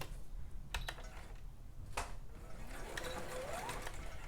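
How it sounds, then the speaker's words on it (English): A sewing machine stitches a bias-cut collar on a Style Arc Teddy Top, running in a steady close whir with a few sharp clicks near the start. "place this back in the machine"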